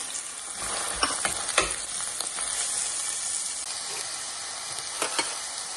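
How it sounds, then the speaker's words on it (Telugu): Onions frying in hot oil for a Telangana country-chicken curry, a continuous bright sizzle with a few sharper crackles and stirring scrapes, close and steady with no talking. "ఆయిల్ వేడైందండి, ఆనియన్స్ వేసుకుందాం."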